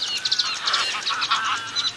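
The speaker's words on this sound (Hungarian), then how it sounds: "És ott egy nádi poszáta." Sedge warbler singing from reeds at Lake Fertő, a fast, scratchy run of chattering trills and whistles, fairly close and continuous over a soft outdoor background.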